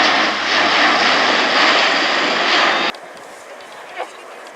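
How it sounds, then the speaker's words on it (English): Airbus A400M military transport aircraft on approach at an air show, gear down: a loud, close, broadband roar of turboprop engines that drops abruptly to a softer, more distant drone, with a voice talking over it. "Here we see the aircraft coming down with undercarriage down in the dirty configuration therefore."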